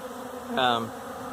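A bee buzzes close by for a brief moment around a bag of Pillsbury flour, a loud droning hum that rises and then fades away after about a third of a second.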